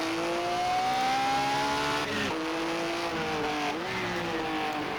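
A 1950s Formula 1 race car engine at Pescara in 1957, droning loud and close with a strong tonal whine, dipping briefly as the throttle is blipped in a short burst before the pitch climbs again.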